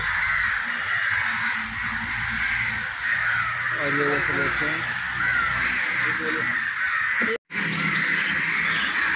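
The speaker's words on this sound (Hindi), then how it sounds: "गाइस हमको लगता है आज कौवे कम आए हैं" Crows caw repeatedly in a busy flock, harsh calls overlapping near and far, with a person speaking briefly over the din.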